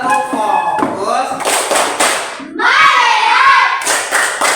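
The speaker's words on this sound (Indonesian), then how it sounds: "Tepuk fokus." Students in a classroom stand and perform a rhythmic clapping routine, a short run of sharp hand claps and taps mixed with voices chanting along, fairly close and loud.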